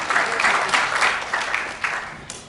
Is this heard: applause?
yes